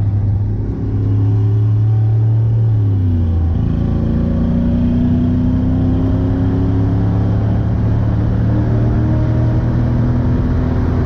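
A 1947 Ford fitted with a Toyota 1UZ VVTi V8 engine drives along, a loud, steady engine rumble that shifts pitch as it changes gear, then keeps pulling with a continuous drone.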